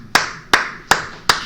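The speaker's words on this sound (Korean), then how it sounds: "박수 한번 주십시다" Four single hand claps, sharp and evenly spaced about a third of a second apart, each ringing briefly in a reverberant church hall, with no talk.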